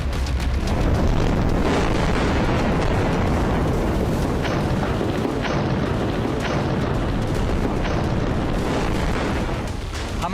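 Loud, continuous rumbling blasts from explosions set off against Israeli tanks and armoured vehicles in urban combat among ruined buildings in northern Gaza, with repeated sharp bursts over a sustained roar lasting throughout.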